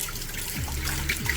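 Tap water runs and splashes steadily into a Field #8 10.5 inch cast iron skillet being rinsed of grease, a close continuous trickle with a soft bubbling texture and no talk.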